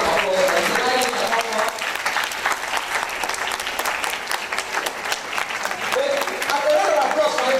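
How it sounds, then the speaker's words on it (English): Steady audience applause at an official launch ceremony at NASRDA headquarters in Abuja, dense continuous clapping from a crowd, with a voice and brief cheers faintly under it. "Please, a round of applause."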